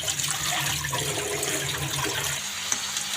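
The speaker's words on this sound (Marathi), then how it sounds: "मी सर्वच भाज्या आता धुवून घेणार आहे तर चाळणी वाटं धुवून घेणार आहे" Vegetables being washed in a sieve under a steady stream of running tap water, a constant close splashing and gurgling with no talk.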